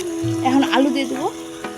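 Potatoes tipped into a pan of frying chicken in a small toy kitchen set, giving a short burst of sizzling and clattering with a tonal whine running underneath, close and moderately loud.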